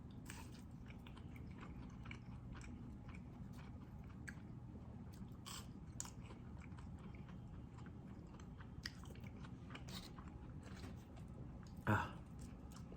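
Quiet, close chewing of a McDonald's McSpicy burger and Spicy McNuggets, soft wet crunches and bites repeating steadily, with one louder crunch near the end.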